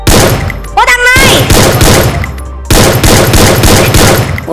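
Gunfire in the Free Fire battle-royale video game: dense bursts of rapid automatic shots, loud and close, broken by brief pauses, with a short whistling effect near the start.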